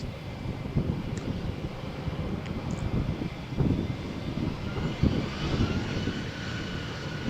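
A Vueling airliner takes off from Malaga Airport's runway 13 on a stormy, windy morning, its engines a loud, sustained low roar mixed with buffeting wind noise and no talking.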